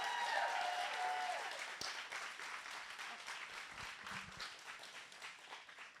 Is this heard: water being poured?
no